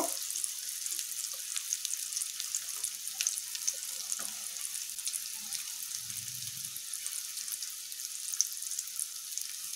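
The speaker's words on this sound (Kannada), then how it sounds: "ಇದು ಸ್ಟೌವ್ ಸಿಮ್ಮಲ್ಲೇ ಇಟ್ಕೊಂಡು ನಿಧಾನ ಫ್ರೈ ಮಾಡ್ಕೊಳ್ತೀನಿ" Raw banana slices frying slowly over low heat on a tawa, giving a soft, steady hiss and faint crackle throughout, quiet and close, with no talking.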